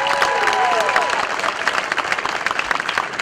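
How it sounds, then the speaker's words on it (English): A crowd at a baseball field and community park dedication breaks into loud, sustained applause with scattered cheers, fading slightly toward the end. "I think we should give him a round of applause."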